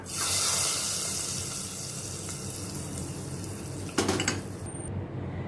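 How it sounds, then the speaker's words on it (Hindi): A hot spice tempering poured into a pot of whole moong curry with a brief splash and clink of a utensil, over steady background kitchen noise. "अब ये तड़का मैं इसमें ट्रांसफ़र करती हूँ।"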